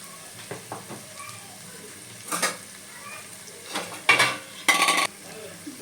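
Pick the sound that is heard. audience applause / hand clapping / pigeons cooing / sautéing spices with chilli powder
sautéing spices with chilli powder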